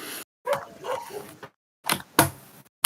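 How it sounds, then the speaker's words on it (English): Dogs bark in short bursts, a few sharp yaps and woofs with gaps between them, fairly close and loud. "I just hope you're not hearing dog barkings in the background because they are barking at the moment"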